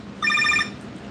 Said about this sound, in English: Can y'all hear the phone ring?